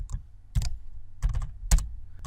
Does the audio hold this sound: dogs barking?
no